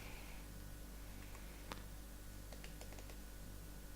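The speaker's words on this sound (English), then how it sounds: "Pressing the fire button 3 times" Fire button on a DotMod DotBox 75W box mod pressed three times, quick faint plastic clicks close up against a quiet background, with a separate single click just before.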